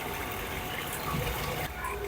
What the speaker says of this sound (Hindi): ये हमने इसमें 30 लीटर पानी शामिल कर लिया।